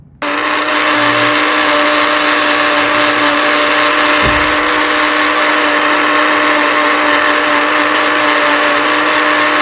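A mixer grinder whirs steadily as it grinds curry ingredients for a camel meat curry in the desert, a loud continuous motor drone that starts within the first half second and runs unbroken to the end, with no talking.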